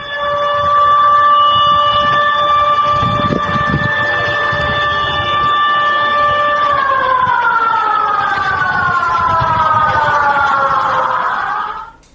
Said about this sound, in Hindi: और इसके बाद मैक्सिको में सुनामी अलर्ट का सायरन भी बजने लगा